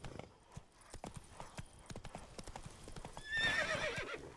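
Roach the horse galloping in The Witcher 3, a quick rhythmic clip-clop of hooves running, then a loud whinny near the end, with a faint voice underneath.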